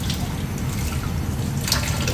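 Water runs steadily from a tap while clip-in hair extensions are rinsed to wash out shampoo, making a continuous close splashing hiss throughout.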